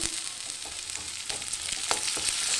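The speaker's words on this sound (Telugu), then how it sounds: "మసాలా కూడా వేపేసుకుందాం బాగా, పచ్చివాసన రాకుండా" Masala spice paste frying in hot oil with fried onions for a mutton curry, a dense steady sizzle with occasional crackles and stirring scrapes, close and alone without voices.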